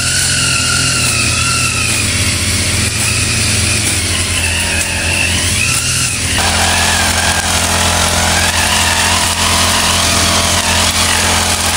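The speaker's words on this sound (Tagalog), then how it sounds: "Kailangan po muna ay mag-grass cutter po talaga." A grass cutter's small two-stroke engine drones loudly and steadily without pause while cutting grass in a banana plantation, its pitch wavering slightly and dropping partway through as the throttle eases.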